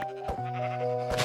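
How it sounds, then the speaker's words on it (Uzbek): A sheep in the video game Minecraft gives a few nasal bleats, close and clear, with no talking over them. "Yo, mana bu yerda qo'y bor ekan."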